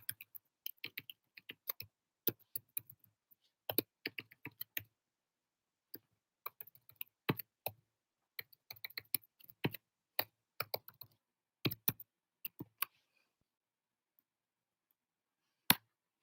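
Typing on a computer keyboard: bursts of quick, crisp key clicks with short pauses between runs, close and fairly quiet, with no voice.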